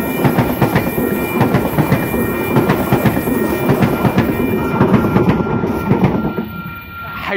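A Sydney V-set intercity train passes close by at Wondabyne, with a loud, continuous rumble and rhythmic clatter of wheels over rail joints that ease off near the end.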